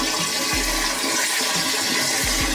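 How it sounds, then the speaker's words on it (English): Boiler water drained from a Remeha Tzerra boiler runs through a hose into a toilet, giving a constant loud rushing, gurgling stream with a few low knocks and no voices. "so I'm going to drain it directly into the toilet"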